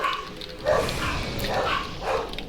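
Several dogs bark in repeated bursts at moderate loudness, close by in a home, with yips mixed among the barks and steady background noise between them.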